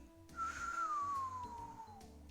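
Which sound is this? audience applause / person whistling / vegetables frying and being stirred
person whistling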